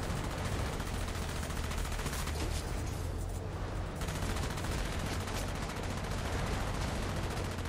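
Gunfire from the video game Enslaved: Odyssey to the West, a steady dense barrage of shots and blasts over a continuous low drone of game sound, with no voice over it.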